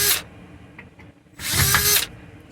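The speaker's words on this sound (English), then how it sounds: "just gonna sit down for a second and take these screws out" A power drill backs screws out of wood during a van bed rebuild, firing in two short loud whirring bursts separated by a quiet gap with faint clicks, close up and with no voices.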